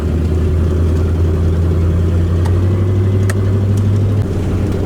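Inside a car driving on the road near Quartzsite, a loud steady low engine drone with a constant hum and road rumble, close and unbroken, with no voices.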